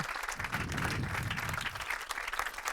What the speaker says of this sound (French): je voudrais d'ailleurs qu'on applaudisse cette équipe d'organisation